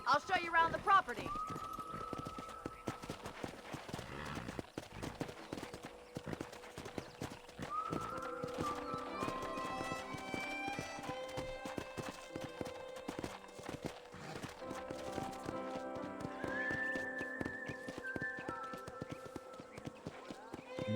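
Horse hooves clip-clop and a horse whinnies in the Red Dead Redemption video game, a steady trot under a game character's talk and soft background music.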